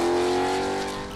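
A custom low, wedge-shaped movie car loosely based on a Formula One car, with huge tires and eight exhausts, holds a loud, steady high-pitched engine note that eases off slightly over a second.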